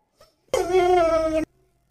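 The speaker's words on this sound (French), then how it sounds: "Cela a provoqué une panique chez le chien du Redditor, comme on le voit dans la vidéo où il fixe quelque chose en gémissant pendant plusieurs minutes." A dog whimpers in one sustained, high, tremulous whine of about a second, close and fairly loud, with near silence before and after.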